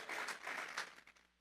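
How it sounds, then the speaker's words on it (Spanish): A church congregation claps hands in an offering of applause, a dense burst of many hands that swells twice, then thins and fades, moderately distant and without talk. "Vamos a regalarle ofrenda de palmas al Dios de la gloria"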